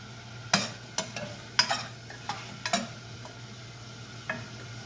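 A spoon or spatula stirs chopped kohlrabi in a hot pan, giving sharp, irregular scraping clicks over a soft, steady sizzle, close and fairly quiet.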